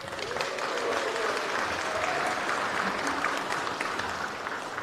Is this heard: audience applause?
yes